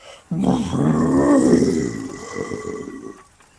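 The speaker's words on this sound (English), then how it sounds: "roar echoing through the valley." A loud, deep roar echoes through a valley, one long growling call that swells and trails off over a few seconds, alone with no talk.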